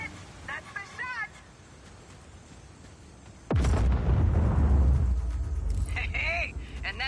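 A booster fires and sets off a sudden heavy explosion in Just Cause 4, a loud sharp onset rolling into a long rumbling blast, with voices talking before and during it.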